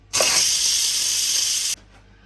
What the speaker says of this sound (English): So let's release the pressure, shall we, on our red potatoes